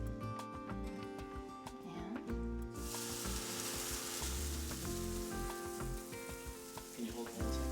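Ghee hitting a hot skillet gives a sudden, bright sizzle that spreads and holds steady, after a quieter stretch of kitchen clatter; no voices are heard.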